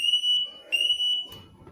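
An electric alarm wired to a timer sounds loudly in two high, steady tonal bursts with a short gap between them, followed by a low rumble near the end.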